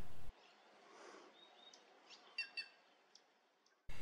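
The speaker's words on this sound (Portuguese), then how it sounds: "A gralha cancã é espetacular. Seu canto faz parte da paisagem por aqui." Calls of a plush-crested jay (gralha cancã) in the caatinga of northeastern Brazil: a few short, sharp, fairly distant calls stand out over a faint, hissy outdoor background.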